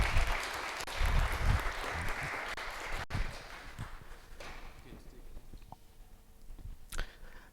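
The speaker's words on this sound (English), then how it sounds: "Again, big round of applause." A meetup audience gives a round of applause, a dense patter of clapping at moderate distance that gradually thins out over several seconds, with a few louder isolated knocks near the end.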